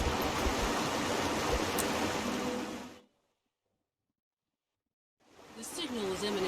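Steady broadband rush of a waterfall in Guild Wars 2 playing for about three seconds, cutting to complete silence, then returning with faint music tones mixed in.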